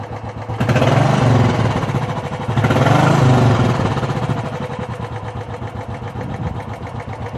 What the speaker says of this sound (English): Now if I accelerate the engine